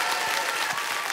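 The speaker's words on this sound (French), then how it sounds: "Je voudrais qu'on applaudisse." Circus show audience applauding costumes and makeup, a continuous wash of crowd clapping, loud and full throughout the short stretch, with no voices on top.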